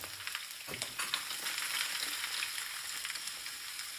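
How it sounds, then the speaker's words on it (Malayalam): Bitter gourd frying in hot coconut oil in a pan: a close, steady, bright sizzle, with a louder spatter burst near the start and continuous crackling afterward, no talking. "എണ്ണ നന്നായി ചൂടായി വരുമ്പോൾ അതിലേക്ക് പാവയ്ക്ക ചേർക്കാം"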